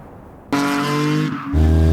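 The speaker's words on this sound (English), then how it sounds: "it's actually a rally car sound come on right at that hard cut" A rally car sound effect cuts in abruptly after near silence, a loud, harmonic engine roar with tire noise that dips briefly and then surges back even stronger as the revs climb.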